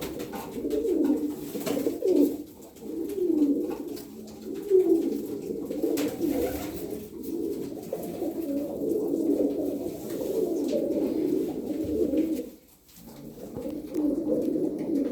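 Taklacı tumbler pigeons coo steadily and close by, a continuous overlapping murmur of low throaty calls with a brief lull near the end.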